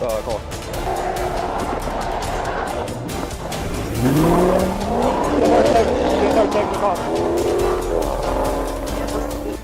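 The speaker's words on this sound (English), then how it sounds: "The Dodge Charger roared down I-40 at over 140 miles per hour" A Dodge Charger roars along the I-40 interstate at over 140 miles per hour, its engine surging loudly with tires squealing and skidding in rising, sweeping tones, close and continuous throughout.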